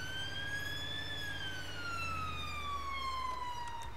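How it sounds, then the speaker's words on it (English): A Mercedes Sprinter ambulance siren wails loudly and continuously, its pitch rising then slowly falling in a long sweep, with steady road rumble underneath. "We can cancel our sirens here at this point,"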